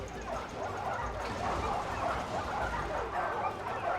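War dogs in the battle game Total War: Arena bark and yip repeatedly amid the dense clatter of combat, moderately close but partly buried in the noise.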